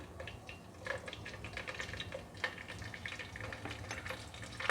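Curry leaves and green chillies frying in a spoonful of oil give a soft, steady sizzle with crackling pops, quiet and close, with no talking.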